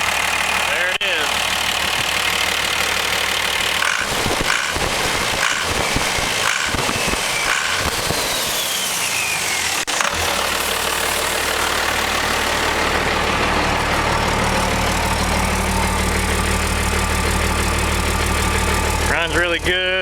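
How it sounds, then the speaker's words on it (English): A Ford F450 with a swapped Cummins 12-valve diesel idles loudly and steadily, a rattling noise from the worn clutch center plate riding over the engine, with a few knocks midway and someone talking over it. "it's that center plate in the clutch making that noise"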